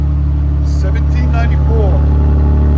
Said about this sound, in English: That's what a muffler delete sounds like on a Tundra.